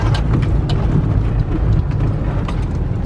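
A Toyota Corolla rolls over gravel, a steady close crunching and rumbling under low road noise, with scattered sharp ticks and pops of stones throughout, no voices.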